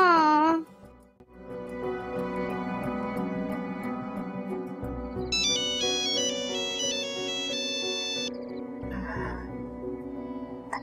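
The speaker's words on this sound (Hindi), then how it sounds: "फोन ही नहीं उठा रही। फिर से कॉल करती हूँ।" A phone ringtone plays a melodic electronic tune that repeats through the call and goes unanswered, clear and fairly close, after a brief voice at the start.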